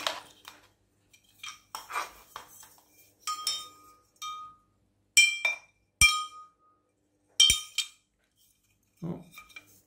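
Metal chimes hanging from a solar garden light clink in scattered, bright strikes. They are close and fairly soft, come in irregular clusters with quiet gaps between them, and no one speaks.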